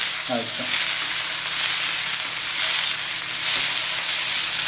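Ground masala paste for prawn masala sizzles and fries in a pan as it is stirred over high heat, a loud, continuous hiss with a few faint scraping touches early on.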